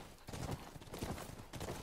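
Horse hooves clip-clop faintly in The Last of Us, a short quiet run of irregular footfalls with no voices over them.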